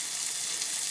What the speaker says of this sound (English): some of the fritters in the pot. You drop them and you let the sides sear